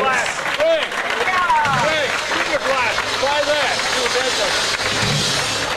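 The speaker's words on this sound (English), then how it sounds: "let's get a great round of applause for all of our senior contestants" An audience at a senior contest gives a round of applause, steady clapping from a crowd mixed with whoops, whistles and chatter that carries on throughout.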